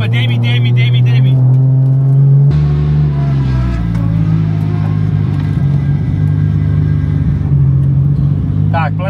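A Toyota Supra's engine rumbles loudly and steadily close by, rising briefly as if revved, then settling into a deep idle, all running under ongoing talk.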